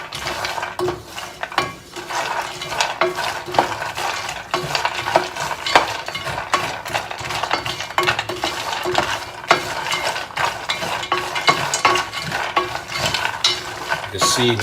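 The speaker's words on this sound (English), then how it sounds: "just stir it off just to kind of start coating all that olive oil" About a pound of roasted cashews being stirred through olive oil in a pan, a continuous busy rattle and scrape of nuts and spoon with a soft sizzle underneath, close up and without speech.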